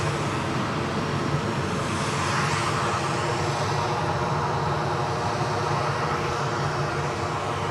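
A six-year-old WestJet Boeing 737 MAX well into final approach at Edinburgh, heard as a steady, moderately loud jet roar that holds evenly throughout with no one talking.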